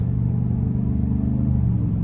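Deep, steady V8 exhaust rumble from a 2024 GMC Sierra 1500 Denali pickup with the 6.2-liter engine, heard from inside while cruising on the road, a continuous low drone with no talk.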